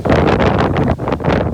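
Wind blows across a farm field during sowing, with loud gusts buffeting up close in uneven bursts and a short lull near the middle.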